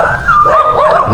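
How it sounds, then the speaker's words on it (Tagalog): Dogs at a large mansion in Tarlac give a short, loud, close burst of high yipping and whining barks, a wavering, pitched cry lasting about a second. "May mga aso."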